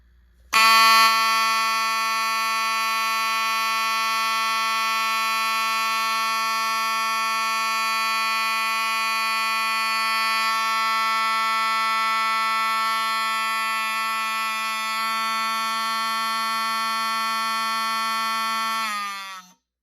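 A vintage 1978 fire alarm running on 24 volts DC sounds one continuous, harsh buzzing tone, loud and steady for nearly twenty seconds before stopping, with no voices.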